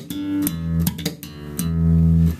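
Slap bass guitar groove played solo: deep sustained thumbed notes punctuated by sharp popped slaps and a quick raked triplet, over one measure.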